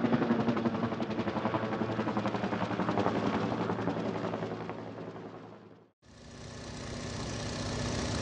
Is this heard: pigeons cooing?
no